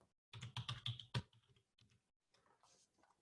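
Typing on a computer keyboard: a quick run of close, crisp key clicks, then a short pause and a softer second burst of taps, with no talk.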